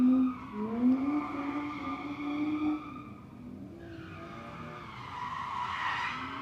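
A BMW drift car with a Chiquita banana livery skids past on a Mexican track, its tires screeching in a long rising wail over engine drone before the car fades and a second squeal swells near the end.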